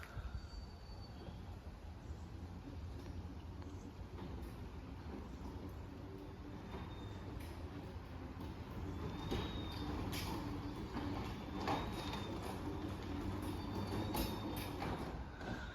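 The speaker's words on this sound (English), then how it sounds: "this one definitely, the motor has more whine to it" A Genie 1024 garage door opener motor runs steadily for the whole stretch, a continuous mechanical drone with a thin whine on top and occasional faint clicks and squeaks from the door and track, heard alone with no talk.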